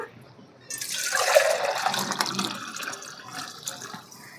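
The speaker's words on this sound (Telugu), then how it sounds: "నీళ్ళు అయితే పోస్తున్నాయి డబ్బాతోటి ఫుల్గా ఒక డబ్బా పోసాను" Water splashes and gushes steadily as it is poured from a tin in one continuous stream, fairly close, with no voices over it.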